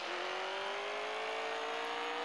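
Car engine in the CSR 2 racing game held at full revs, a steady loud drone with a smoothly rising pitch, no talk.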